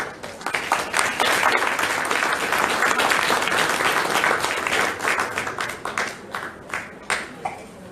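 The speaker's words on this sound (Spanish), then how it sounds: "Por favor, recibimos a nuestros ponentes con fuertes aplausos." Loud, steady applause from a seated audience at a book fair presentation in Lima, welcoming the speakers; dense clapping fills the whole stretch, swelling early and thinning slightly toward the end.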